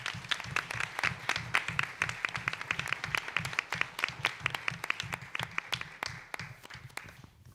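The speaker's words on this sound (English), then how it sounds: "Let's give a round of applause for Paula Horton." Scattered audience applause at a school board meeting, a modest group clapping in clearly separate, sharp claps at a fairly quick rhythm, thinning out near the end.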